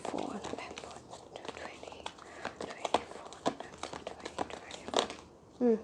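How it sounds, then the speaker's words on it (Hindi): Tarot cards shuffled by hand in a stiff, sticky deck, giving a run of soft crinkling riffles and taps under quiet speech, ending in a brief louder rustle. "इन कार्ड्स को शफल करना बड़ा ही भाई, हिलते नहीं हैं ये कार्ड्स"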